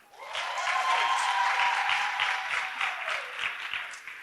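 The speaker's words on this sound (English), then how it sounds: "Can we give another round of applause to Hetty and Papa, please?" An audience at a business talk applauds, sustained dense clapping that swells quickly and holds steady throughout, with a few brief whoops mixed in.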